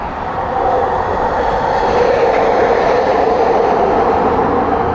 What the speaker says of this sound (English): Skytrain.